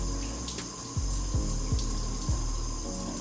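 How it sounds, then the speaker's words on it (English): Water drips from wet curly hair in a few distinct, close plops, spaced roughly half a second apart, over a steady background of running water. "Just keep watching the drip."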